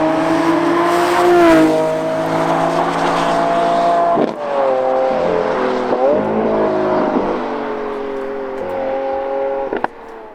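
A 2022 Lamborghini Countach sports car engine hums steadily at close range, its tone shifting in pitch as it revs and eases off, with a brief click near the end.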